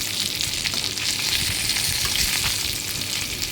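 Fish pieces fry in hot oil in a kadai, a steady, close sizzle with crackling spits and no voices.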